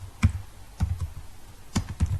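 Computer keyboard keys tapped while typing into an Excel spreadsheet, a few separated soft clicks with low thumps, close and fairly quiet, no speech.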